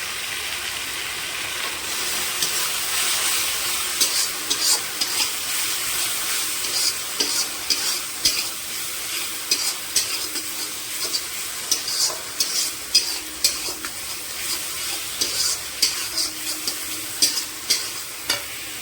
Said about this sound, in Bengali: অল্প অল্প করে জল দিয়ে মশলাটা ভালো করে কষিয়ে নেব